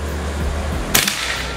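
A single sharp, cracking shot from a Bocap Predator PCP air rifle fired at a silhouette target, standing out against steady background noise. No voices are heard.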